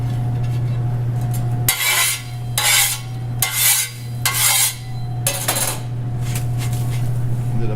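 Metal oven trays being wiped and scraped in the video game My Summer Car: several loud rasping strokes in a loose rhythm over a steady low hum, with no talk.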